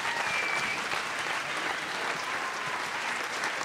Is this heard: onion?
no